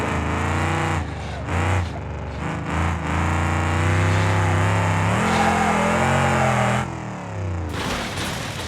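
A damaged car with a broken exhaust drives in BeamNG.drive, giving a loud, close, raspy engine drone whose pitch rises and falls through revving and shifting, with no talking.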